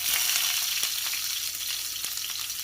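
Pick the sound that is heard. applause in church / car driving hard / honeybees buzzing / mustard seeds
mustard seeds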